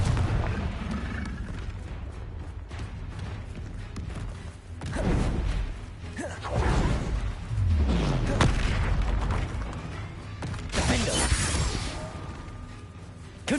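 Confringo fire spell explosions in the open-world Hogwarts Legacy: several deep booms and blasts arrive at irregular intervals with swooshing casts between them, loud and rumbling over a continuous ambient bed.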